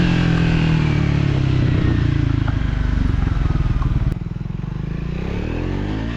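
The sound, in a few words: Triumph Scrambler 400X single-cylinder engine accelerating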